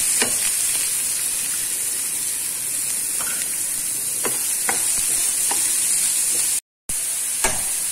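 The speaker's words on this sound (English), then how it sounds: "now it's crackling. Now I'll add my onions." Cumin seeds and onions fry in hot oil with a loud, steady sizzle, close up, broken by sharp crackles and pops and a brief gap near the end.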